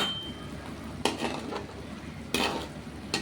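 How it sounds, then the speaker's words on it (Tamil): Curry leaves frying in hot oil for mint rice, a soft steady sizzle with a few sharp crackling bursts as leaves hit the oil, fairly quiet and close. "இந்த எண்ணெயிலே நம்ம கொஞ்சம் கருவேப்பிலையை பொறிச்சிக்கலாம்"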